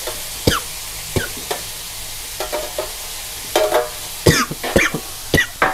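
Squid bodies stir-fry with holy basil in a pan on the highest heat, giving sharp, loud spatula scrapes and clanks in uneven bursts over a steady background sizzle.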